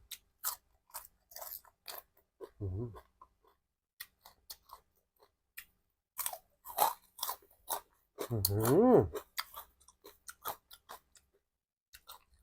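Someone munches crispy pork rinds with papaya salad up close, making sharp intermittent crunches and wet chewing sounds, with short bits of talk and humming between bites.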